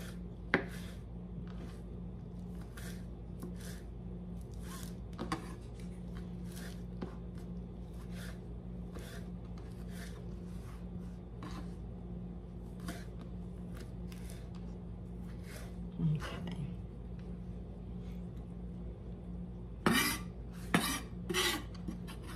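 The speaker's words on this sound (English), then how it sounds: "Now I'm just chopping it very finely." A knife finely chopping washed, torn basil leaves on a cutting board in a home kitchen gives faint, light taps at an uneven but steady pace, with a few sharper knocks near the end over a low background hum.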